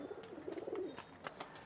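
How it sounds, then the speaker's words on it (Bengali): Teddy pigeons of an Oman bloodline coo at a crowded pigeon market in Khalishpur, Khulna, with soft repeated throaty calls rising and falling over a busy background with sharp clicks. "এটা হচ্ছে ওমান ব্লাড লাইনের টেডি কবুতর"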